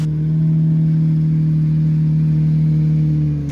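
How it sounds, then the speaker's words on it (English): A high-mileage Lamborghini Murcielago Evo idling as it is backed out of a garage, a steady deep engine drone with a strong low hum, loud and close, no talk. "the Murcie being backed out into the daylight for the first time in weeks"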